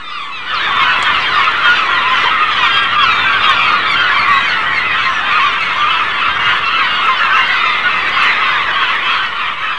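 Terns and cormorants, fish-eating seabirds at Lake Michigan, call in a dense, continuous colony clamor of overlapping honking cries. The sound is loud and steady throughout, with no voices.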